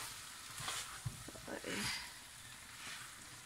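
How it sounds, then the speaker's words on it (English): A vegetable jalfrezi sizzles softly in a pan while a spoon stirs it in a few short scraping strokes, with a gentle crackle continuing between them. "We're just going to give it a quick stir to make sure it's not sticking at the bottom"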